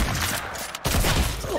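A no-scope sniper rifle shot in an online shooter game lands amid a dense, loud wash of gunfire and game noise, with a brief dip before another burst of shooting.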